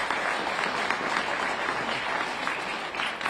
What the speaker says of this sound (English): Please give another round of applause to Mario.